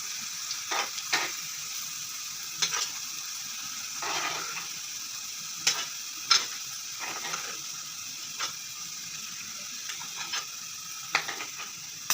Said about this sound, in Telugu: మరీ ఎక్కువగా మాడిపోకుండా గోల్డెన్ కలర్ వచ్చే వరకు ఫ్రై చేసుకోవాలి.